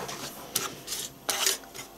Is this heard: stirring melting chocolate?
yes